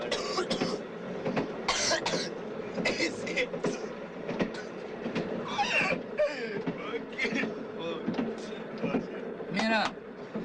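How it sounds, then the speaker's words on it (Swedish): Several people cough and clear their throats in short, repeated bursts against the steady rumble of a moving train, with voices talking in between. "Vad hostar ni för?"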